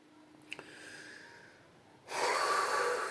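During meditation a person draws one slow, deep breath close to the mic. A soft, quiet inhale is followed by a louder, rushing exhale that swells abruptly and then holds.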